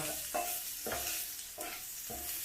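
Fried okra is stirred with spices in a hot pan, four distinct scraping strokes at a steady pace over a soft continuous sizzle, with no talking.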